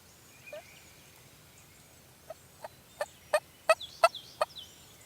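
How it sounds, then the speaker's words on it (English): A wild turkey gobbles during a spring bow hunt in Georgia, heard as a faint, distant series of short rising gobble notes that build in strength over a quiet outdoor background. "Whether he answered me or just happened to gobble right when I wanted to answer."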